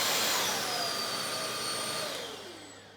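A WOWGO cordless stick vacuum cleaner runs on its third, loudest speed setting, a steady high-pitched whirring drone heard alone that fades slightly toward the end.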